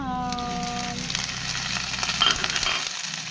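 Chicken pieces hit a hot pan and sizzle loudly, a steady frying hiss that holds throughout with faint stirring scrapes.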